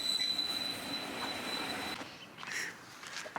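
A train passes on a railway beside a country park, its wheels squealing in a thin high whine over a rumbling roll that fades near the end.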